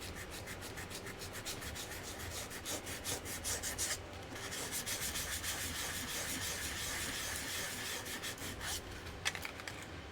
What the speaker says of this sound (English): That actually sanded off very well.